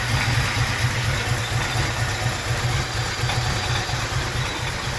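A car engine idles low and steady, a continuous deep rumble with a slightly uneven pulse, close by and loud, no talking; the idle is low because the ignition timing has no advance at idle.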